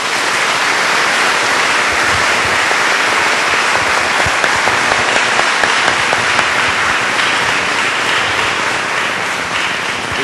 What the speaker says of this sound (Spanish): un aplauso para el Padre Jaime